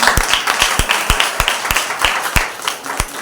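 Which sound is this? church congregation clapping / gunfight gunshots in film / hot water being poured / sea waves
church congregation clapping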